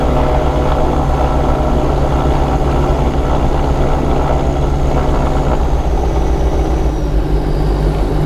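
Diamond DA42 Twinstar twin-engine aircraft taxiing with its left engine throttled up, a steady loud propeller drone and low engine hum holding throughout without pause.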